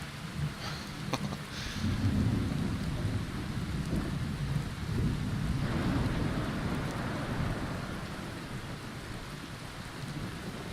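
Rain falls steadily in the Skyrim video game while thunder rumbles low and close, swelling and fading over the downpour, with no talk.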